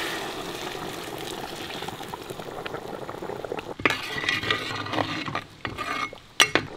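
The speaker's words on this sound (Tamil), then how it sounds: "இந்த டைம் நம்ம சுடு தண்ணி ஊற்றிக்கலாம்." Hot water poured into half-cooked mutton in a large pot for Kongunadu-style biryani, a steady bubbling simmer that turns into louder splashing and sizzling, with a few metallic clinks of pot or utensil near the end.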